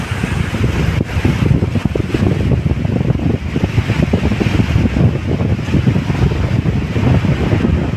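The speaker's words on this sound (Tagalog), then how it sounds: "Lakas pa rin ng hangin mga bayan dito sa Maya." Strong wind on Manila Bay buffets the microphone in heavy, rumbling gusts, loud and unbroken throughout, with a washing roar like surf underneath.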